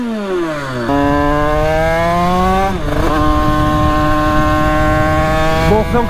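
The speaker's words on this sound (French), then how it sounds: "on fait encore chauffer un petit peu la moto" A motorcycle engine revs and climbs in pitch, drops briefly, then accelerates again with a loud, steady whine close by.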